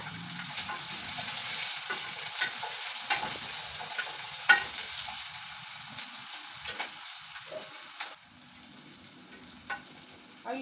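Onions fry in a pan with a soft, steady sizzle, broken by a series of scraping and stirring knocks from a utensil.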